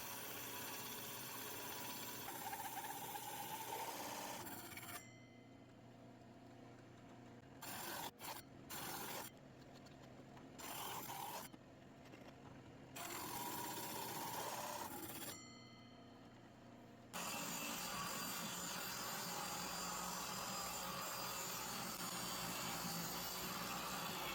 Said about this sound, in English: I'm going to use a 4-inch hole saw bit, the same size as a biscuit joiner blade, to cut a bunch of biscuit splines